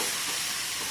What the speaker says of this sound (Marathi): जे लसूण मिरची एकत्र झालेली ते सुद्धा छान फ्राय होते